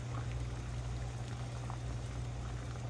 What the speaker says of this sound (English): I'll just leave that water boiling because I'm going to throw more in there